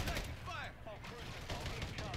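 Sniper gunfire in a video game, several sharp loud shots in quick succession over busy game noise, with someone talking throughout.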